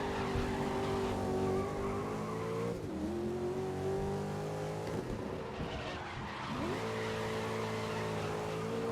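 Ford Edge race car in the GRID (2019) racing game, its engine droning steadily with gear-change dips and recoveries, mixed with tire squeal and skidding through corners, loud and continuous throughout.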